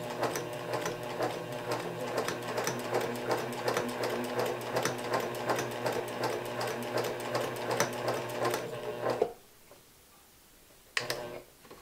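A sewing machine stitches quilt binding in a steady, fast mechanical patter for about nine seconds, then stops. After a quiet pause comes a short final burst of stitching.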